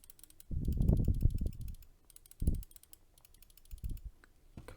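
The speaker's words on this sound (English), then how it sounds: "I'll do a little sound test to see if the mic can pick up the sound of it." Logitech G305 mouse buttons clicking close to the mic in a quick cluster, then a few isolated clicks, alone in a quiet room, with a faint steady hiss underneath.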